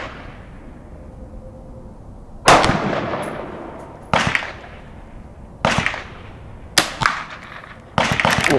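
Marlin 39a rifle firing hollow points, five sharp close shots spaced a second or two apart, each cracking loudly and ringing out with a short echo.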